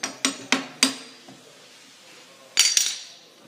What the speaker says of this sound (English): You need a hammer, and tap it.